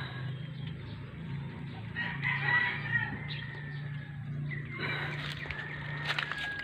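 Pet chickens cluck on a backyard farm while a rooster crows nearby, heard alone against a quiet background.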